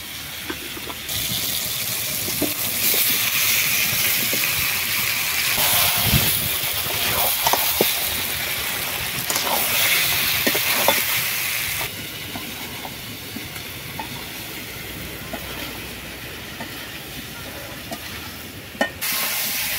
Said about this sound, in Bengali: মশলার সঙ্গে ভাজা সবজিগুলো ভালোভাবে কষিয়ে নিয়ে